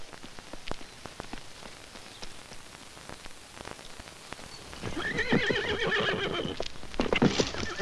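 After scattered clip-clop hooves and patter, harnessed saddle horses break into loud, wavering whinnies, one after another, close by.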